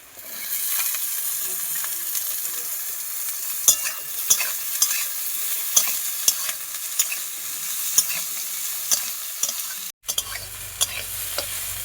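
Eggplant and raw potato sizzle steadily in a hot pan while a utensil stirs and scrapes, with sharp clinks against the pan every second or so.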